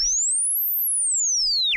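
A pure sine test tone sweeps up in pitch and then steadily back down, clean and continuous with a faint trace of aliasing alongside it, heard alone.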